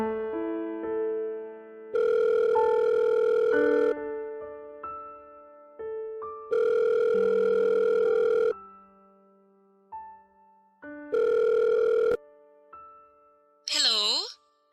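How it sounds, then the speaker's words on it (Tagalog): A telephone rings during a call in a dramatised story as a sound effect. Three sustained ring bursts stand out over a tonal musical background, followed by a brief warbling chirp at the end. "Agad kong tinawagan si Weng."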